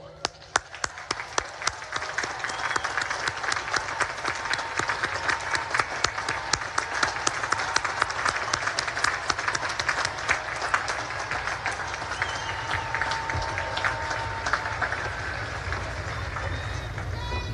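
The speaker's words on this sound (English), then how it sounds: "please stand up, face your families, and give them a round of applause" A large graduation crowd of families and graduates at the US Naval Academy claps loudly and steadily, a dense continuous roar of applause lasting the whole span with some cheering voices mixed in.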